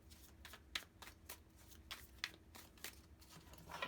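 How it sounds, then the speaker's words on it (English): Tarot cards being shuffled by hand, a run of soft, papery riffles and slaps in a quiet room, close and low in level, repeating irregularly every half second or so. "I'm going to give the cards a really good shuffle"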